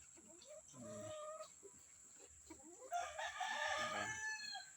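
Gilmore Sweater gamefowl roosters crow and cluck nearby. Calls come in several bursts, getting louder and busier toward the end.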